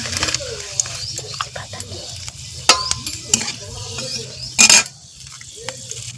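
Panch phoron and dried red chillies hit hot oil for a vegetarian kochu dish. A close sizzle comes with spoon clinks, scraping and a sharp loud crackle burst, and a voice speaks at times.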